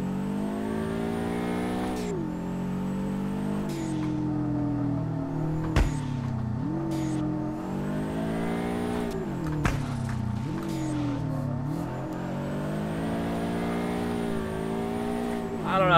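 A Subaru BRZ in the drifting video game DRIFT21 revs hard, its engine note climbing and dropping with gear shifts and brief tire chirps, loud and continuous throughout.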